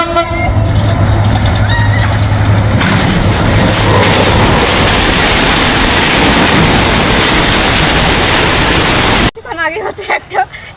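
A train rumbles loudly across the Ghatna rail bridge, a dense, steady roar of wheels and carriages close by with a horn toot early on, cutting off abruptly near the end, leaving quieter outdoor sound.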